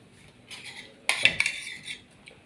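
A metal spoon set down on a plate holding a Thai omelette, giving a short cluster of bright clinks and rattles after a few soft handling sounds, close by and with no talking.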